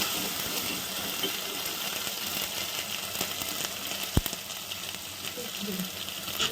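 Coconut masala fries in a pan for a mutton and drumstick curry, a steady close sizzle with a brief sharp clink of a utensil partway through.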